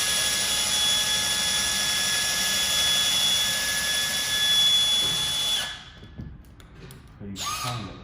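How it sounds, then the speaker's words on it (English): A power drill bores a small pilot hole into an aluminum wall stud, its steady high whine running several seconds before cutting off, followed by brief handling noises. "So now I just drill and make another small pilot hole."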